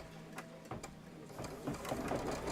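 Embroidery machine quilting a table topper, quiet stop-and-start mechanical stitching with ticking and whirring bursts close by.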